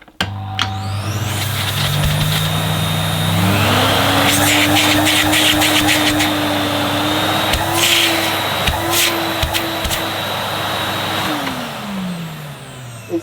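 A Henry Quick corded vacuum cleaner runs during a suction test, a loud steady motor whine that rises in pitch after a few seconds, holds, then drops near the end, with clicks and knocks over the drone.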